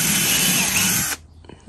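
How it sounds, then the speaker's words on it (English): Power drill boring a hole through a styrofoam plant pot, a loud high-pitched whine held for about a second before cutting off abruptly, followed by faint handling noises. "So Matthew is just drilling a hole on that pot"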